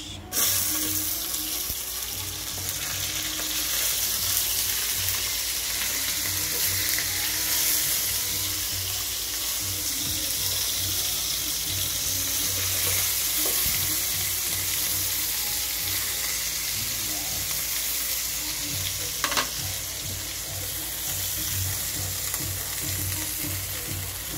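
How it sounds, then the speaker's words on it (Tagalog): Fish sizzles steadily in a pan, a loud continuous crackle of frying oil running throughout with a few brief clatters along the way. "Isasalang na natin ang ating fish."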